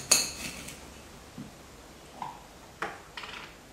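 A knife clicks sparsely against a cutting board as apple rings are sliced for a snack, a few quiet separate taps in an otherwise hushed kitchen.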